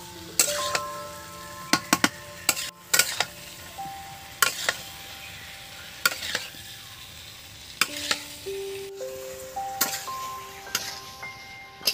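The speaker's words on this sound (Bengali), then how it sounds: "এবার আমি বেশ কিছুক্ষণ একটু নেড়ে চেড়ে নেবো মশলার সাথে।" Rohu fish, cauliflower, potato and tomato with spices sizzle quietly in a pan while a spatula scrapes and clinks against the metal in repeated sharp strokes, close up, with no talk.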